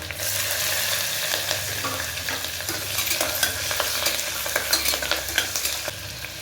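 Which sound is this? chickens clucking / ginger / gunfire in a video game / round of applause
ginger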